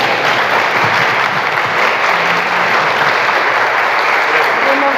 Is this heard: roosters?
no